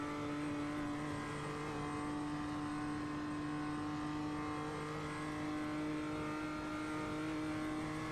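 A BMW M2 race car's engine drones steadily through a lap of the Nordschleife in the iRacing sim, a constant tonal hum with strong harmonics and little change in pitch, close and continuous throughout.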